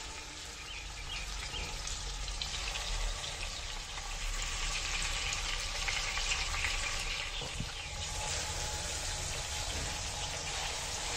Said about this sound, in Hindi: अब चिकन को इसमें गोल्डन ब्राउन कलर आने तक इसे भी इसमें कुक होने देना है, दोनों साइडों से।